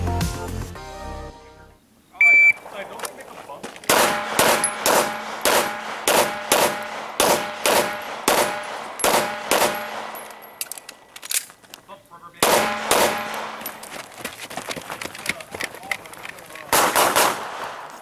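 Pistol shots at an IDPA match at a rifle and pistol club ring out loud and sharp in quick strings, with steel-target clangs, short pauses between groups and a final fast volley.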